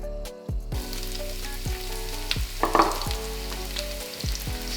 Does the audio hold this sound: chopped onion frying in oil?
yes